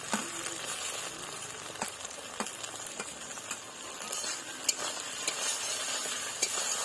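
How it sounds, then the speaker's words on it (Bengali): Chopped tomatoes with onion, bay leaf and cumin sizzle in a pan while a spatula stirs them, producing a steady crackling fry punctuated by regular scraping clicks, close and moderately quiet. "টমেটো কুচি দিয়ে নাড়াচাড়া দিয়ে নেব।"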